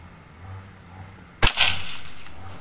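A single sharp air rifle shot fired through an FX Liner barrel, a crisp crack followed by a short fading tail over a low, quiet background.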